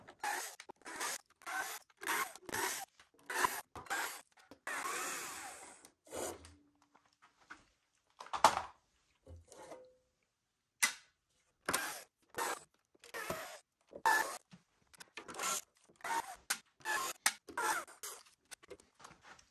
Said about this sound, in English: Let's get this grill off.